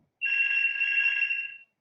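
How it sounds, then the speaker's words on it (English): A mobile phone ringtone sounds once as a clear, steady electronic tone lasting over a second against near silence, then stops abruptly. "forgive my ringing phone"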